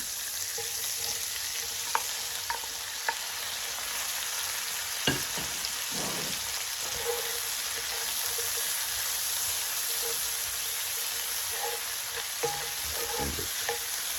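Sliced white onion and mushrooms frying in a pan, a steady close sizzle with occasional louder crackles and stirring clatters, no voices.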